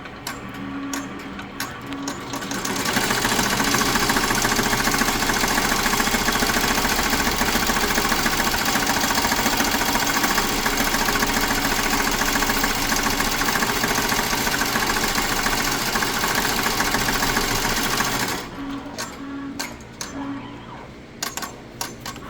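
An embroidery machine sewing an applique placement stitch runs with a steady loud mechanical whirr and rapid needle rattle for about fifteen seconds, starting and stopping with quieter handling noises before and after.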